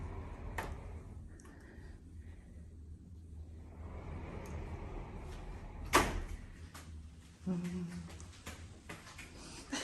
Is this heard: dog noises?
no